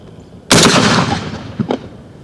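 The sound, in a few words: Panzer EGX500 shotgun firing Winchester 1 oz rifled slug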